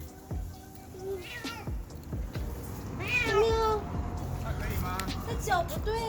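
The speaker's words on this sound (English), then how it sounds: "that video of the cat coming out of the car" An injured cat meows repeatedly after coming out of a car, with several drawn-out, plaintive cries at close range. People talk quietly in the background.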